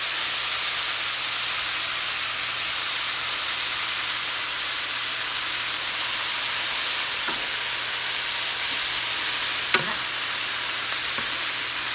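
Chicken fajitas with onions and pepper sizzle steadily in a hot pan, a constant bright frying hiss throughout with a couple of faint utensil clicks near the end.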